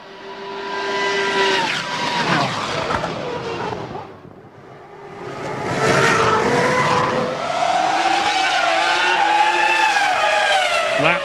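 A Formula 1 race car at Spa-Francorchamps during the 2002 Belgian Grand Prix. A loud, high-pitched engine wail rises and falls, briefly dips, then swells again into a sustained screaming note as the car passes close by.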